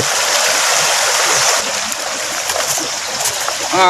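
Water flowing and splashing in a forest stream where a small dam is being built to catch fish, steady broadband rush throughout with a brief louder splash at the very end.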